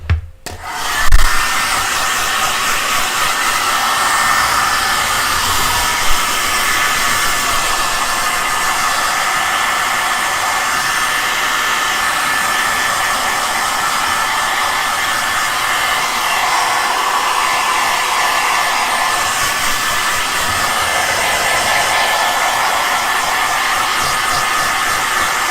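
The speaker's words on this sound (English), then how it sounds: "So this is the hair dryer, and I'm gonna go seal everything." Hair dryer running continuously at close range, a loud steady whooshing roar with a high whine that holds for the whole stretch after a brief start-up click.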